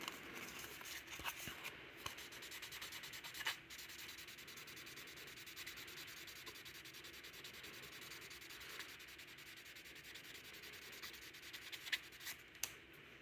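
Sandpaper rubbing steadily back and forth along a Case knife blade during a repair, a soft, continuous, close scratching with a few small bumps and no talk.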